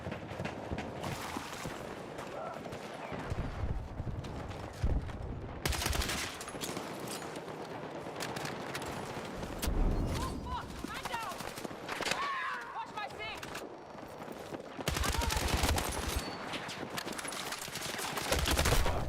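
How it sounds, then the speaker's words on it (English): Gunfire in the shooter game Battlefield 6, bursts of rapid automatic shots in clusters separated by brief lulls, with players talking over the action. "I was shooting him in the head"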